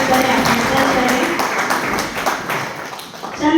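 Audience applause at a Hindi poetry recital (kavi sammelan) at a college, a steady wash of many hands clapping in a hall that swells and then slowly thins out, with a voice faintly audible underneath.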